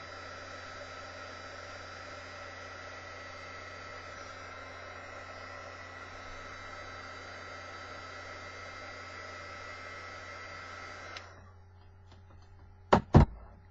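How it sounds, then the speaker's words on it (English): An embossing heat tool blows hot air in a steady whooshing hum for about eleven seconds, then cuts off, followed by two sharp knocks. "Once the heat tool heats up,"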